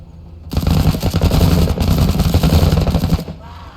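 Gunfire in the tactical game Menace: a loud, dense burst of rapid shots starts abruptly, rattles for nearly three seconds in a steady rhythm and then cuts off. Close and dominant, with no talking.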